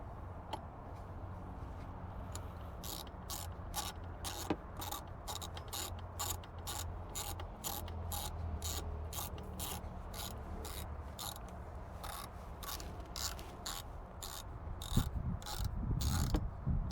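Bolts tightened on a Ram 1500 throttle body at the roadside, heard as a long run of quick, regular ratchet clicks, close and fairly crisp over a steady low background hum.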